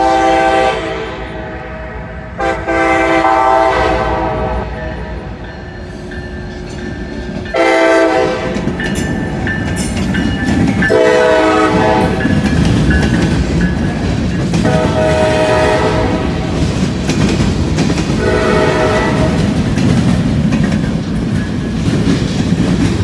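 A freight train passes close by with its locomotive running long hood forward, giving repeated loud horn blasts over a steady rumble and wheel clatter.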